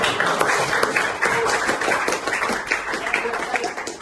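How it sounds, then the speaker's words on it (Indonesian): Classroom applause for a student group, a dense stretch of many hands clapping at close range, steady and lively throughout, with faint voices mixed in. "terus kita kasih aplaus untuk kelompok"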